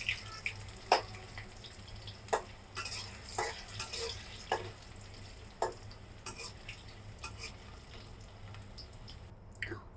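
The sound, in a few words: frying potatoes in leftover oil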